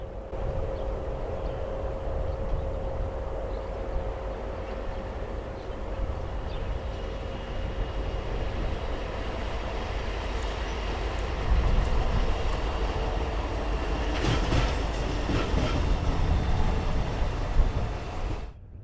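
A lone diesel locomotive with no train rumbles past heading westbound, a steady low engine drone, metallic rail noise and some clatter growing louder toward the end.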